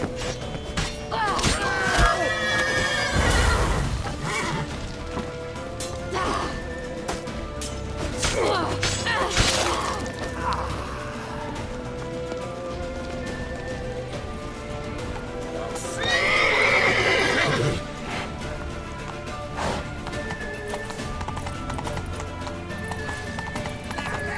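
Horses whinny and neigh over steady galloping hoofbeats, with occasional crashes and thuds in a busy action scene from The Witcher 3: Wild Hunt.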